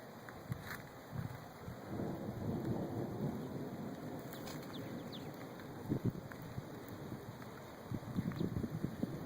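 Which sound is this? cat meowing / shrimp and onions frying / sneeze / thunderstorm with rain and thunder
thunderstorm with rain and thunder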